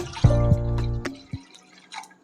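Water is poured into a pot to boil corn, a short ringing, hollow pour up close that stops abruptly, followed by a few faint drips and clinks.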